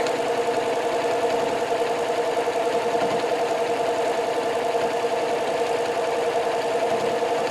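A sewing machine runs continuously while stitching a fabric placemat, giving a steady, close mechanical hum and whir with no pauses or talking.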